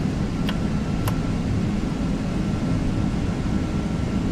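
Steady, broadband roar of an Airbus A330 climbing after takeoff in the P3Dv5 flight simulator, a constant loud engine and air rush with two faint clicks near the start.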